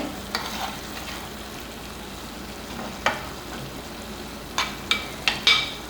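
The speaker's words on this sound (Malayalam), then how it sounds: "ചെറുതായിട്ടൊന്ന് നമുക്ക് ഇളക്കി കൊടുക്കാം" Netholi anchovy peera cooked with coconut oil sits in a pan under a low sizzle, with a few scattered scrapes of stirring, clustered sharply near the end.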